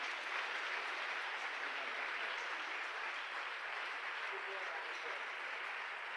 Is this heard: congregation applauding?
yes